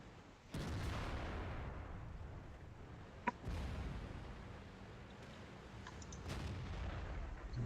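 Artillery fire in the tank game World of Tanks: three heavy, booming shots spaced a few seconds apart, each with a sharp onset and a long rumbling tail, plus a brief crack in between, with no talking.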